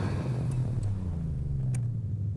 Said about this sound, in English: I'm keeping the stock exhaust because it sounds really cool